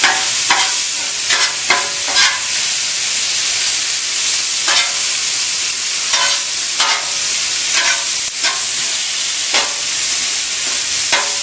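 Ground beef sizzles steadily on a hot Blackstone flat top griddle, with a loud, continuous frying hiss and repeated scraping and stirring strokes at irregular intervals, close up and with no talking.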